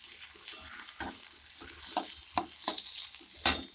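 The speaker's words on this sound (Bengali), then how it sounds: "আলুটা ভাজছি আর আটাটা সবে বার করেছি" Potatoes fry in a pan for a breakfast dish, with a soft sizzle broken by repeated scraping stirs in uneven bursts, close up and with no voices.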